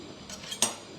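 Metal ladle clinking against a pot or plate as pure ghee is served over hot homemade mutton biryani, two or three short bright clinks, close and fairly quiet, with no talk.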